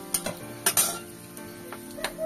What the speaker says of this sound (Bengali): আর দেবো তেজপাতা, দুটো তেজপাতা চিড়ে দিয়ে দিলাম।